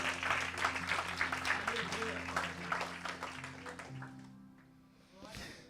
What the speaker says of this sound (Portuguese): Você pode glorificar e aplaudir o nome do Senhor Jesus.